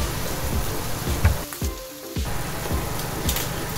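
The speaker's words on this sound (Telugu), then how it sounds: "కరివేపాకు, ఎండుమిర్చి వేసి వేపుకోవాలి" Curry leaves and dry red chillies crackle in hot tempering oil for a brinjal and jackfruit seed curry, a dense close sizzle that briefly softens midway before surging again.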